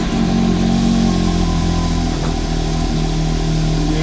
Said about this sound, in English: Yeah, I got an exhaust on this thing. You guys can actually hear it.